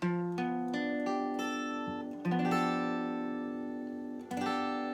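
A guitar chord from a song, played on the last five strings without the low E, is strummed several times and rings out clearly, with no voice over it.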